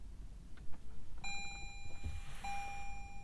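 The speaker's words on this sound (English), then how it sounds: "Normal just Toyota chime." A 2021 Toyota Prius startup chime sounds inside the cabin, a clear tone that rings out and then repeats once more, fairly soft against a low background hum.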